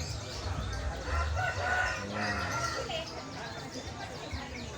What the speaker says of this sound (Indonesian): sabung ayam